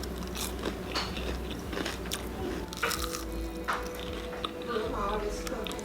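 Someone bites and chews crunchy baked cauliflower bites, giving repeated crisp crunches up close, with voices talking over and around the chewing.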